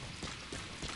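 Horse hooves clip-clop in a video game, a steady close run of clattering footfalls lasting about a second with no talk over them.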